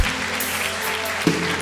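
A church congregation applauds with dense, steady clapping that fills the room at moderate volume.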